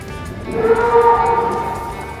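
Cattle of the Javanese Ongole crossbreed (peranakan Ongol Jawa) give a single sustained, loud moo lasting about a second and a half, with some faint background noise.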